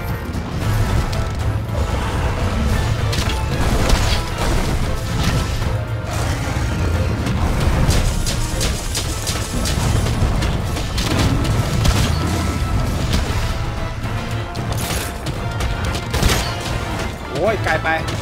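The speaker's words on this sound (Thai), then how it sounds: "เฮ้ยเนี่ยฝุ่นระเบิด" Blast dust explosions from the fire elder dragon Teostra in Monster Hunter World Iceborne: dense, continuous booming and crashing game sound effects with repeated impacts, loud throughout, with a voice talking over them.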